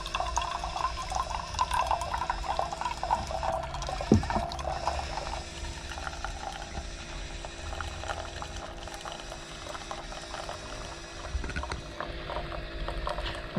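Keurig coffee machine pouring hot water, a continuous bubbling, gurgling stream with boiling-like churn, steady and close, with a brief sharper knock partway through and no talking.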